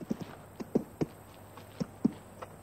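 Horse hooves approach at a walk in a Western film scene, a handful of irregular, moderately loud thuds against a quiet outdoor background.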